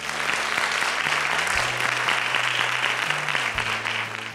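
A lecture-series audience gives a full round of applause for a keynote speaker, the mayor, and students: steady, dense clapping from many hands filling the room, with a low sustained musical tone beneath.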